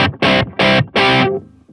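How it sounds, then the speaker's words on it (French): A Fat Blob Suprême electric guitar played through its reverb effect: three loud distorted chord stabs in a quick rhythm, each cut off sharply, then a fading ringing tail. "Eh bien, vous entendez bien la reverb."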